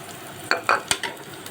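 A spoon scrapes a pan four or five times in quick succession over a soft background sizzle of frying tempering spices for a beans curry.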